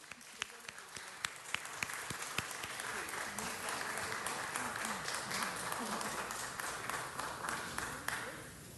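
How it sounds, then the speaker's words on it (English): An audience at a city council meeting breaks into applause: a few separate claps at first, swelling into sustained, fairly distant clapping, with voices murmuring underneath. "Let us please give them a round of applause"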